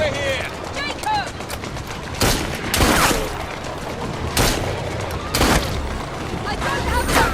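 Gunfire in the Assassin's Creed Syndicate video game, several sharp loud bursts spaced a second or two apart over a busy background, with a voice talking in between.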